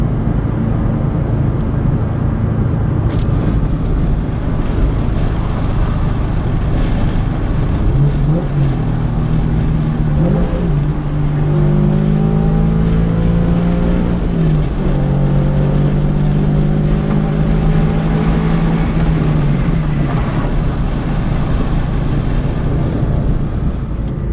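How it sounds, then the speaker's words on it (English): A loud, steady engine drone from a Scion FR-S/Subaru BRZ with a Magnaflow catback exhaust, its deep exhaust rumble rising and falling in pitch as the car revs and shifts. "pretty good sounding exhaust"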